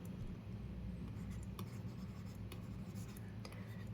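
Pen or marker writing out an LCM calculation for 2, 3 and 5 during a Class 8 maths lesson, a steady scratchy stroking with brief taps, close and continuous over low room hum.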